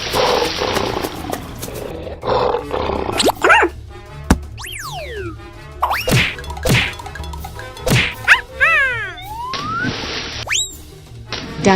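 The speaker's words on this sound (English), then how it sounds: "Lion." Game lion in a river crossing animal riding challenge gives loud roars among thwacks, boing-like sliding effects and bright whooshes over steady background music.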